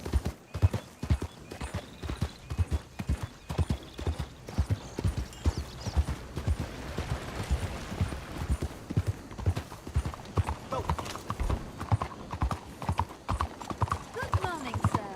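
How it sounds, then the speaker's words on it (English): Steady clip-clopping of horse hooves in Red Dead Redemption 2, a brisk rhythmic trot with a brief whinny, over ambient game sound; no words are spoken. "That's a hell of a horse you got there."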